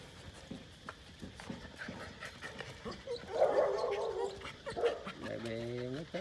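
Rottweiler puppies from a litter of five pant and whimper softly as they are set down one by one, with someone talking over them throughout.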